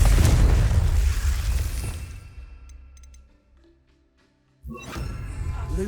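Fiery Confringo spell blasts in the video game Hogwarts Legacy: a loud, roaring explosion that rumbles and slowly fades into near silence, then a second sharp burst strikes and rings on.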